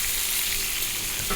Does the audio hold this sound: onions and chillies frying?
yes